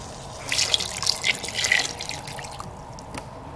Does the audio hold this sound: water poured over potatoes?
yes